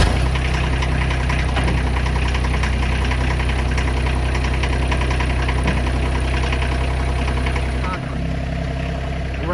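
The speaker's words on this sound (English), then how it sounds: "Let's start the tractor up." A tractor engine runs at a steady idle throughout, a loud continuous diesel-like rumble with knocking texture, briefly dipping near the end before settling back.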